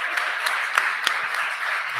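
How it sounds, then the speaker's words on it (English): A round of applause for Neera Tanden, the president's domestic policy advisor, at the Freedman's Bank Forum: a brief, moderately loud burst of audience clapping with a few sharper individual claps standing out. "We're going to give her another round of applause."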